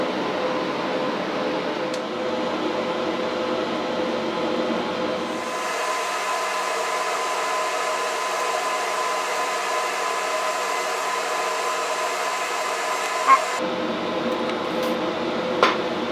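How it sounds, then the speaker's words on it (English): TIG welding arc burning in joints on a metal grinder rack, a steady electric buzz with a tonal hum that holds for about eight seconds between quieter stretches of background machine drone. "it's going to be really easy for me to burn in all these joints here."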